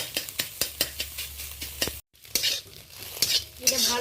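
Egg mince frying in a pan while being stirred, with repeated scraping and clinking strokes of a utensil over a steady sizzle, a brief silent gap midway, then louder sizzling.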